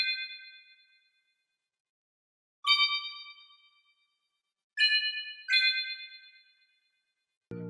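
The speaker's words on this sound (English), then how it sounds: "So after the organ, I added this pluck again from my one-shot kit." Bright, bell-like synth pluck one-shot strums chords in four separate hits that ring out and decay, with a low thump at the very end of an orchestral-style beat production.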